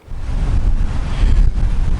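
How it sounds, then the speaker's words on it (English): Wind buffeting a microphone outdoors at a park, a loud, low rumbling roar that surges and swells steadily for about two seconds. "I apologize, it's a little bit windy, so I'm at the park"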